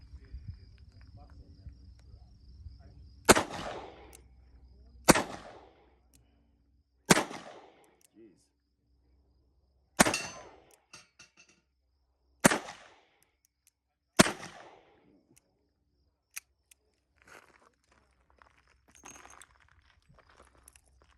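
Shots from a stainless S&W 65-5 .357 Magnum revolver with a 3-inch bull barrel at a shooting range: six loud, sharp reports spaced about two seconds apart, each with a brief ringing decay, with faint background noise between.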